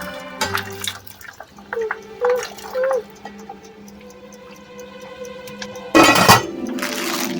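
Chicken soup ingredients for a homemade noodle soup are poured into a pot, with light clinks and faint trickling giving way to a sudden loud splashing pour that keeps running near the end.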